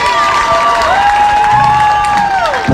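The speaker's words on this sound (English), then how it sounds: "Another round of applause for your Pride of AC." A crowd roars and cheers with scattered applause at a high school football game, a dense and steady wall of noise throughout with sustained tones rising through the din.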